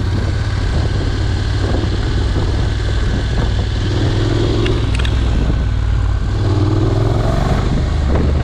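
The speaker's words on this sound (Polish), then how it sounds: "Motorek tam pojechał." A small motorbike travelling past outdoors in a Bydgoszcz neighbourhood, its engine a steady loud drone that rises and falls over a constant background of traffic noise.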